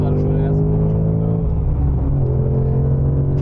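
A Ford Mustang's engine drones loudly and steadily on a race track as it downshifts, the pitch of its rumble dropping partway through, heard close up from inside the car.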